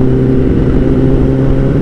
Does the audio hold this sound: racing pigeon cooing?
no